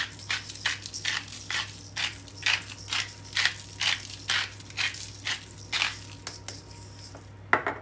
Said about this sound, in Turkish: Şimdi üzerine Himalaya tuzu döküyorum.